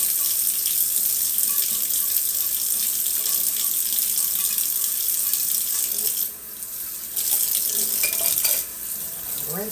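A cooking pan is rinsed under a running kitchen tap after deglazing, with a steady broadband rush of water that briefly changes as the pan shifts under the stream, close and continuous with no talk.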